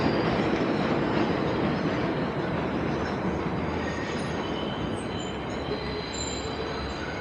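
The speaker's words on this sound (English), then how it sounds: "So the 7 train line comes all the way over here." A New York 7 subway train rolls past on an elevated line in Queens, a loud, continuous roar of wheels and cars with faint metallic squeals near the end.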